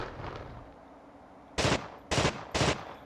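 Gunfire in the video game The Thing: three loud, separate bursts of shooting in quick succession over quiet background ambience, each lasting about a quarter second, with no talk.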